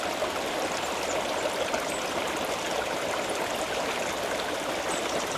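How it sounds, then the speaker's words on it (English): A stream gurgles steadily just in front of the listener on a frosty morning, a dense, unbroken wash of running water at even loudness with no voices. "the sound of the stream gurgling away just in front of me does muffle a lot of the sound"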